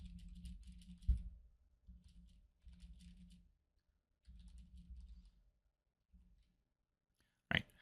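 Someone types text into the Vim editor on a computer keyboard, with soft key clicks arriving in short, uneven bursts separated by pauses and ending in one sharp louder tap, quiet and close.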